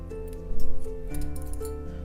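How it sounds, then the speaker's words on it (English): Scissors snip crochet yarn with a quick, soft metallic clip, close up over a steady low background hum, with no talking. "and cut your yarn"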